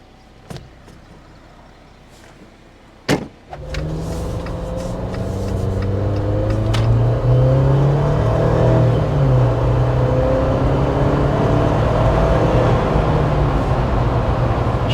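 A 2024 Jeep Wrangler Sport S with a 2-liter turbo four-cylinder accelerates hard after a door-like thump, its engine drone rising steadily and loudly in pitch through the gears, heard from inside the cabin with no talking.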